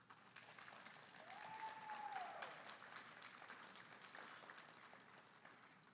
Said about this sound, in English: So please give your loved ones a round of applause as well